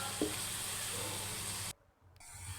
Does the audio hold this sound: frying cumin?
yes